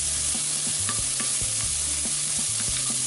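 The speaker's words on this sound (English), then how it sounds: "Bacon's starting to brown." Bacon sizzles and crackles in a Dutch oven outdoors on a windy day, a continuous close frying hiss with a rhythmic scraping pattern from stirring.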